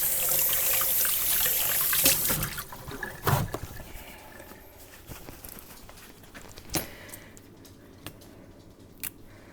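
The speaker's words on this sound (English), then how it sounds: "I'm going to give them a quick rinse." A kitchen sink tap runs over fresh garden jalapenos for a quick rinse, a steady water rush that fades after a couple of seconds into scattered drips, knocks and handling sounds.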